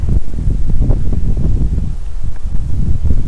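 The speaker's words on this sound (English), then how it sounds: "Very windy up here." Strong, gusty wind buffets the microphone with a steady low roar, rising and falling in surges throughout, with no voices, on an open forest ridge with many downed trees in Allegheny National Forest.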